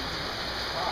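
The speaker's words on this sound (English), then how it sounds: "it's raining pretty bad" Steady heavy rain pours down at a family farm, a dense, even hiss filling the short stretch with no breaks.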